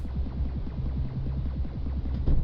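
Low, repetitive electronic game music with a pulsing, throbbing rhythm, quiet and muffled, looping steadily.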